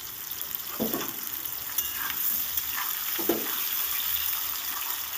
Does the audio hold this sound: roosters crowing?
no